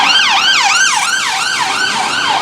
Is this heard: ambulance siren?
yes